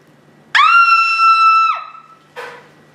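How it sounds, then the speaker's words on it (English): A single loud, high-pitched scream from an actor on a film set, held for about a second before falling off, followed by a short noisy burst. "And scream."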